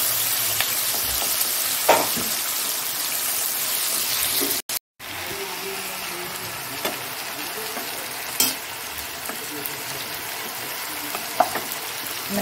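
Onions frying in a pan, a steady close sizzle with occasional stirring clinks and one brief dropout.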